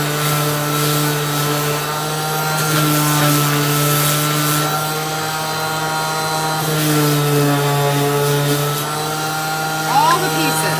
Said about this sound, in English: This is my awesome Ryobi sander, and it goes really fast and I love it.